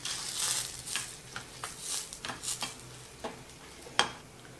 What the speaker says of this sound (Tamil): இப்போ இதில் மிளகாவை சேர்த்து வறுத்துடலாம்.